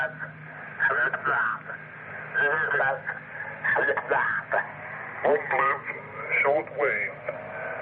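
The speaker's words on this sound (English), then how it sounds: "This is the sound of a single sideband voice transmission." A single sideband voice transmission comes through a shortwave receiver, the talk bandlimited and thin with a warbly, slightly garbled tone over faint background hiss, continuous speech bursts at moderate level.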